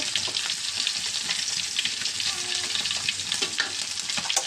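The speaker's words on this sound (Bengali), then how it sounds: "মাছ ভাজা হয়ে গেছে" Fish frying in a pan of oil on a home gas stove, a steady, dense sizzle with crackling pops that carries on without a break, close and fairly loud.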